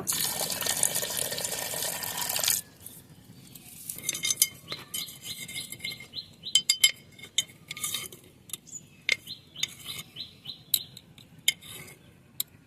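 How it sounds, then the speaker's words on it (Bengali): Water rushes into a pot holding homemade date-palm jaggery for a batter, a brief splashing pour followed by scattered clinks and scrapes of a ladle and utensils against the metal. "এখন 1 কাপ পরিমাণ মতো পানি দিয়ে দেব।"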